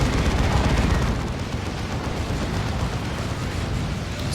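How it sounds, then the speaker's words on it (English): Space Marine assault cannon fire in the Warhammer 40,000: Dawn of War 2 game, a dense continuous roar of gunfire and battle noise, loudest in the first second and then steady throughout. "Assault Cannon."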